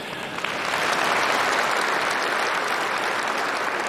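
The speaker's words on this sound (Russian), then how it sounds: "Присоединяюсь к вашим аплодисментам." An audience claps together at a state policy address, a thick, even wall of applause holding steady throughout.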